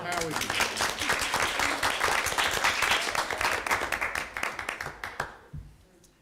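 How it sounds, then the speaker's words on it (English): A small group at a school board meeting claps for Julie, a lively burst of distinct hand claps that thins out and stops near the end, leaving a brief quiet tail. "Now we should clap for Julie"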